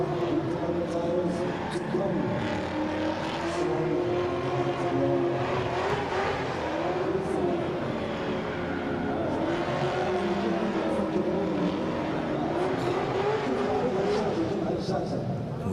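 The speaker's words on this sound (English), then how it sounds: "warming up his tyres" A drift car in a burnout box at an international drift championship round in Oman, its engine droning and revving steadily with wavering pitch, under continuous commentary from an announcer.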